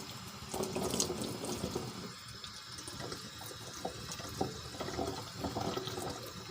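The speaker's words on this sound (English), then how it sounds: "Again, hot water." Hot water runs steadily from a tap, a continuous splashing gush with small gurgles that carries on for several seconds without any talking.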